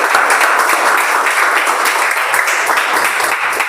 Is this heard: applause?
yes